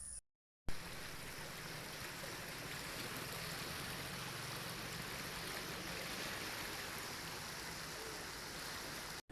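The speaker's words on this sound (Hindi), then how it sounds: "आप लोगों ने आवाज़ सुनी पानी की कितनी तेज़ से आ रही है ना। बहुत फुल नहर चल रही है" Water rushes steadily through a brimming irrigation canal in the early morning, a continuous broadband roar close by after a brief dropout at the start, with no voices.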